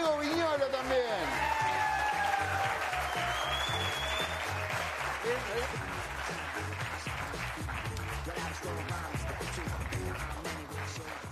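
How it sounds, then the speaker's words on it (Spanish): Live audience applause in a concert hall during a radio show broadcast, a sustained crowd of clapping that stays steady and moderately distant, with a voice talking over it. "Fuerte el aplauso para Diego Viñolo también"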